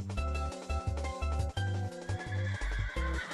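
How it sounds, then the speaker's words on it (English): A horse in the Minecraft video game neighs repeatedly, a loud, close whinny in several stuttering bursts with no talking over it. "I hear a horse."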